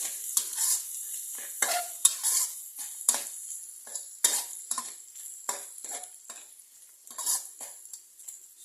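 Wood ear mushrooms and minced pork stir-fried in a pan, with repeated scraping and clinking strokes of a utensil over a soft sizzle, close and fairly quiet, no voices.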